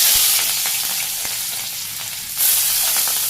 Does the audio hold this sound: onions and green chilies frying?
yes